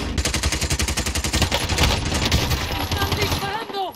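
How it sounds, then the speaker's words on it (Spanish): Rapid automatic gunfire in the shooter game Call of Duty: Warzone, a loud sustained burst of evenly spaced shots that gives way to scattered fire and faint voices near the end. "¡Están disparando!"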